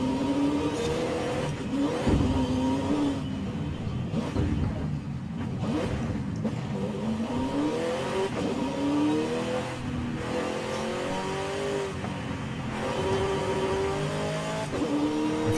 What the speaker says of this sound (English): I've made all the cars in this game now sound so realistic and so good.